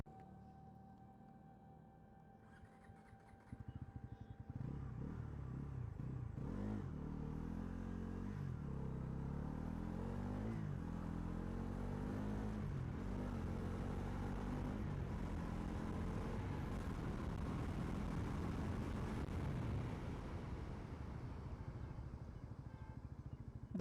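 A 2026 Bajaj Pulsar NS400Z motorcycle with a 349cc engine starting up and idling close by, a steady low rumble that continues without pause after the start.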